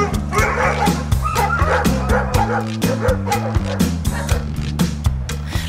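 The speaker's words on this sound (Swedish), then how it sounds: "Det är på grund av hundarna. De skäller och ylar ju" Several neighbouring dogs bark, yip and whimper in a rapid, overlapping chorus, loud and close, continuing without pause throughout.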